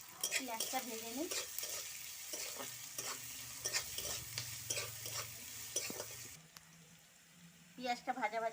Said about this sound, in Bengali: এবার পেঁয়াজটা ভেজে দেবো।